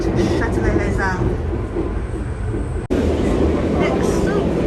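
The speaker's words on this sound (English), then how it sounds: "Here we are on the RER." An RER commuter train in Paris rumbles along with a loud, dense low roar and rattling from inside the carriage, with a brief jolt midway, while people talk over the noise.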